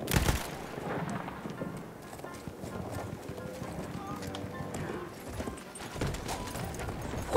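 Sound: horses' hooves in a video game

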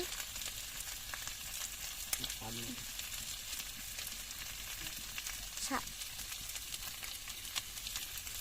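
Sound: potatoes sautéed with salt and turmeric in pan

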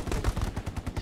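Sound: gunfire in the video game Hell Let Loose

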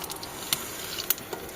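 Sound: potatoes frying in oil

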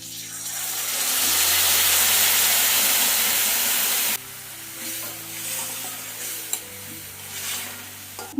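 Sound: tamarind water added to sizzling green chilli pickle

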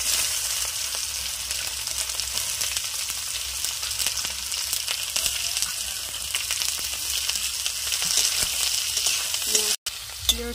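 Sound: onion frying in oil

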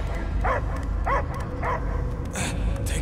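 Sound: dog barking, from video game Guardians of the Galaxy

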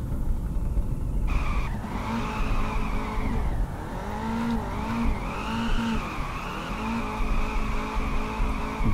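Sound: Nissan GT-R drifting with tire skid in video game Peak Angle

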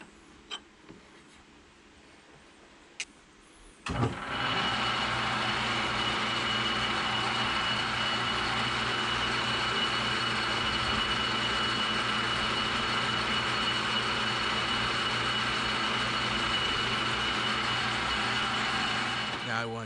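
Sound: South Bend lathe running a threading scratch pass

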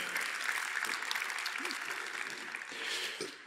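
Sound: audience applause

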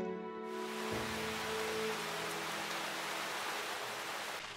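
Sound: heavy rain in Titipo cartoon

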